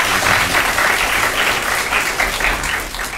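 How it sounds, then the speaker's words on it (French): An audience at a Niger youth robotics team event breaks into steady, loud applause that keeps going and fades slightly at the end. "On peut l'applaudir?"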